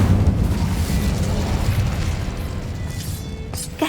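The Incendio fire spell bursts in Hogwarts Legacy with a loud, rumbling whoosh of flame that dies away slowly, followed by a brief crackle near the end.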